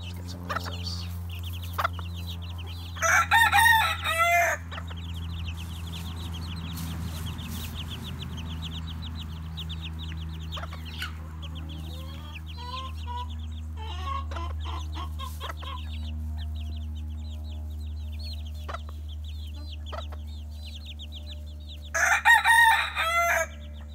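A backyard rooster crows loudly twice, early and again at the end, while chickens cluck and murmur softly in between against a steady low hum.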